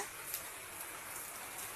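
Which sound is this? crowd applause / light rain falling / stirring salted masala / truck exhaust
light rain falling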